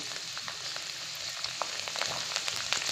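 Garlic frying in hot oil in a home kitchen while potato bonda is being made, giving a steady soft sizzle with faint crackles and pops, fairly quiet and close, with no talk.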